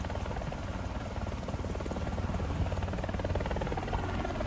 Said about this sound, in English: Nice helicopter run, bro.